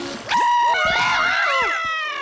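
A cartoon monster lets out a loud, wavering scream with sweeping, warbling pitch that fills the whole short burst, with no talk over it.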